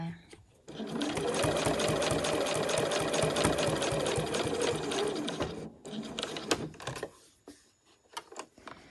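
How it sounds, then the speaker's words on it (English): A domestic sewing machine stitching along a fabric edge at a long visible stitch length: a steady, rapid mechanical whirring and clatter for about five seconds, then a few short bursts as it stops and restarts. "And then I'm just sewing right on the edge there."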